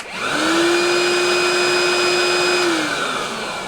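A Dewalt DCV517 cordless vacuum runs loud and steady for about three seconds, a strong motor whine with bright overtones, then winds down as it switches off.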